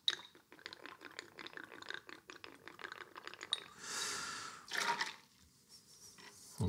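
Vodka poured over ice in a cocktail shaker: quick clinks and rattles of ice cubes, then two short gurgling pours of liquid, up close and fairly quiet.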